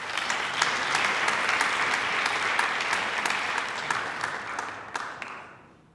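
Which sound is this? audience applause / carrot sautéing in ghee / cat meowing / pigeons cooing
audience applause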